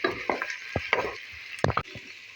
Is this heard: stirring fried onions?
yes